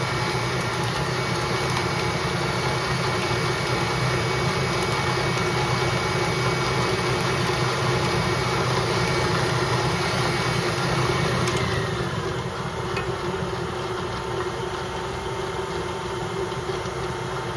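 An electric mixer blends raspberry thumbprint cookie dough, a steady close motor drone with a buzzing whir that runs unbroken throughout.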